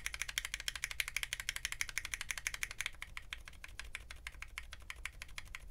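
Fast, continuous typing on a mechanical keyboard fitted with CAP switches whose bottom housings have drilled holes, giving dense, crisp clicking and clacking keystrokes, close up and alone with no talk.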